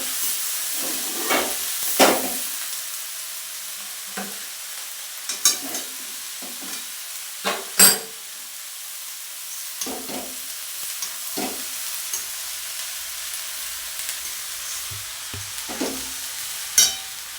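Food being stirred and mixed in a cooking pot, a soft sizzle underneath as a spoon repeatedly scrapes and clinks against the pot in irregular strokes, close and fairly quiet, with no talking.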